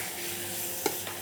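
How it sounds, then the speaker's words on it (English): Masala for a fish curry being mixed in a hot pan, a quiet, steady sizzle with a single brief scrape or tap of the spoon, close by and without speech. "Mix the masala,"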